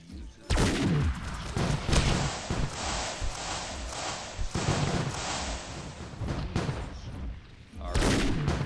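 Rapid bursts of toy blaster fire crackle through a sci-fi convention arena game, dense volleys and short cracks layered over crowd noise and scattered voices for most of the stretch.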